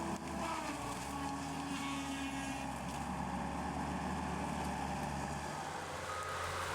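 A skid steer with a front-mounted turbo saw, a large circular saw, works on Russian olive trees, giving a continuous loud engine drone with a steady whine layered over it, near and unbroken.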